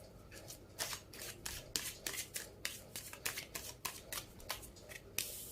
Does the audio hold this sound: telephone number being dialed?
no